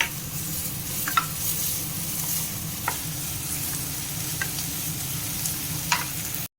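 Ginger, garlic and green chili frying in a pan, a continuous close sizzle with a spatula stirring and scraping in regular strokes.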